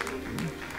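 Congregation clapping hands in praise during a church worship service, a steady wash of many hands heard close and fairly loud, with faint voices mixed underneath.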